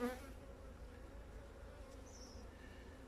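Honey bees at an opened hive hum in a soft, steady drone, a faint continuous buzzing swarm with no talking.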